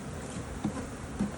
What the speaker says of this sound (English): the other bees are just going to fly home